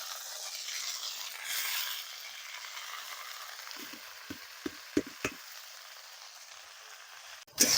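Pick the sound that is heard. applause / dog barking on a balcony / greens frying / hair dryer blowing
greens frying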